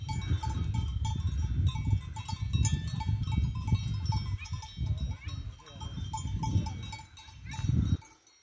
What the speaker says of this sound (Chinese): 小绵羊在吃草，阿尔卑斯山。